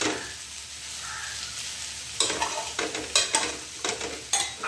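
Finely chopped okra (bhindi) cooks in a pan on a low flame, first a soft steady sizzle, then several sharp scraping clatters of a utensil against the pan in an irregular rhythm, with no voices.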